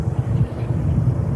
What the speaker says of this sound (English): we can hear the sound of helicopters now in the background